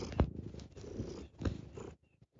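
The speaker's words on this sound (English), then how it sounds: "I don't know if you can hear him purring." A cat purrs close up while kneading, a low rumbling purr coming in a few uneven pulses with soft rustling, then trailing off into near silence.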